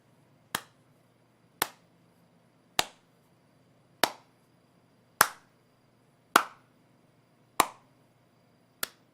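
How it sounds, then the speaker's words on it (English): A lone person gives a slow clap, eight single claps spaced about a second apart, sharp and fairly close, with quiet gaps between them. "The slow clap."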